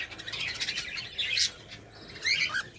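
A budgerigar warbles and chirps continuously, with bright twittering bursts and short squawky notes, close by and fairly loud.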